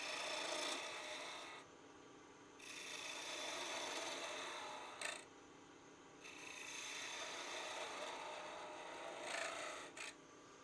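A wood lathe gouge makes a scooping cut on a spinning wooden blank, giving loud rasping scrapes in long passes broken by short pauses, close and alone.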